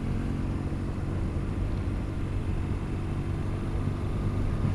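BMW R1200GS motorcycle being ridden on a road, a steady close engine drone with constant rumble and wind noise throughout, no talking.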